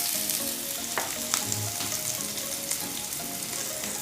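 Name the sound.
cumin and green chillies sizzling in hot oil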